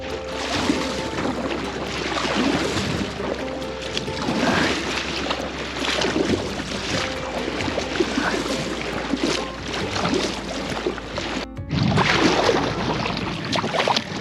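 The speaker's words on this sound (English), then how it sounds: "New Olympic discipline, backwards paddling." A kayak paddled backwards on the Tejo river, with continuous splashing and rushing water from paddle strokes and some wind, fairly loud and close, with a brief dropout near the end.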